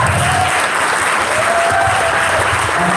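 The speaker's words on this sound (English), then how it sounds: "round of applause." Steady, dense applause from a conference audience for a panel of speakers at an entrepreneur and investor event, loud and continuous throughout with no voices on top.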